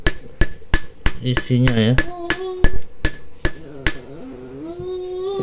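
A hammer knocks again and again on a MOSFET transistor, such as an IRFP150 or IRF540, giving sharp metallic taps in an uneven rhythm. A person speaks briefly between the blows.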